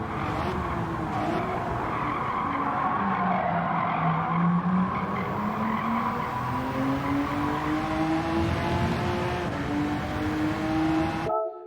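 A Honda NSX race car laps Daytona in Gran Turismo 7, its engine note rising and falling through gear changes as a steady, loud drone with tyre scrub throughout.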